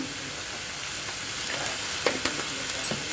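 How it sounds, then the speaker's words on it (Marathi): Vegetables stirred in a pan of frying oil for a veg roll, a constant sizzling hiss with a few sharp spoon taps against the pan near the end. "आता ह्या भाज्या आपल्याला छानपैकी हलवून घ्यायच्या आहेत"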